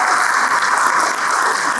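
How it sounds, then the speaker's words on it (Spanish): An audience at a church gathering applauds, with sustained, even clapping from many hands filling the room at full strength. "¡Aplausos!"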